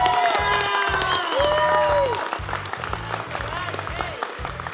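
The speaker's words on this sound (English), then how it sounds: "And I think that deserves a round of applause." Applause and cheering from an audience at an awards event honoring a candy manufacturer, a dense wash of clapping beneath loud music with a pulsing beat and some crowd shouts.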